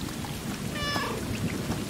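A black cat meows once in the video game Stray, a short plaintive call set against a steady rain-like ambient wash.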